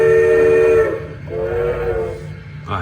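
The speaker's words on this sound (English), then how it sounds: "Actually, that's a very nice horn." A steam locomotive horn from a Kato Light Steam sound card in a model train, a sustained whistle tone held for about a second, a short gap, then a second wavering blast, fairly loud and with no talking.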